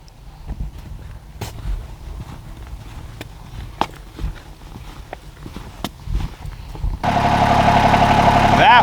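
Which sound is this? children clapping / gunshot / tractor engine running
tractor engine running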